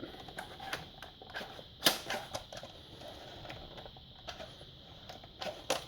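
The catch of a Nerf Zombie Strike Crossfire bow, fitted with a 7 kilo spring, gives scattered sharp clicks and small plastic taps at an irregular pace, quiet and close, with no talk over them.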